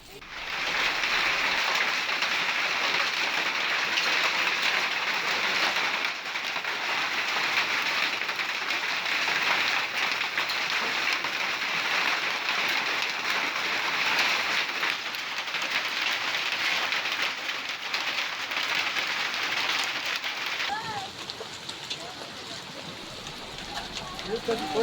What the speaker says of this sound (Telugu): వరంగల్ జిల్లా నర్సంపేట, దొగ్గంగి, కనగాపురం మండలాల్లో భారీగా వర్షం కురిసింది.